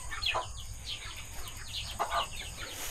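Chickens clucking and chirping close by, several short calls scattered over a low background hum.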